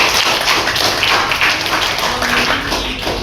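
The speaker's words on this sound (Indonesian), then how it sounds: "Tepuk tangan dulu untuk saya." Students in a classroom clap together in a steady, dense burst of applause that fills the space at close range and holds throughout, with no clear voices over it.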